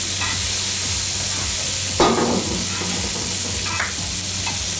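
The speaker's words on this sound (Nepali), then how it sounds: "त्यसले नै हल्का चलाउने हो हजुर" Pork chop frying in a pan, a steady close sizzle broken by a louder scrape-and-sizzle burst as it is stirred, followed by a few lighter utensil touches.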